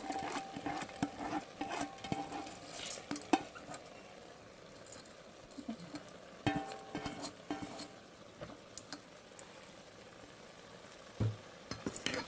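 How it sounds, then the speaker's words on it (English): Soaked basmati rice tipped into a pan of shrimp biryani gravy, giving soft scattered patters and light sizzling stirs with occasional clinks of a pan, fairly quiet and close, no talking. "now to this, I'm going to add in basmati rice"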